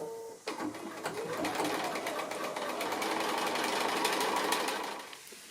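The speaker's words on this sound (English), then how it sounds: "I'm just going to go ahead and stitch along both of those lines" Sewing machine stitching quilt fabric along drawn diagonal lines for a house sampler block. After a brief pause it runs as a steady, close, continuous whirring hum for about five seconds, then stops.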